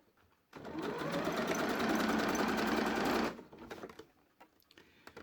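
A sewing machine zigzag stitches over yarn along a ballgown, making one continuous close whirring run of nearly three seconds that starts abruptly and then stops, followed by light handling noises.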